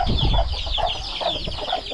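Chicks and chickens clucking in a farmyard in the late afternoon, a few close, loud, repeated clucks in an uneven rhythm.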